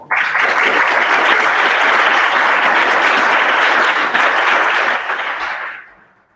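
Audience applause at a pharmacy students' world congress session, a dense, steady roar of clapping from a large hall that holds evenly for several seconds, then dies away quickly at the end.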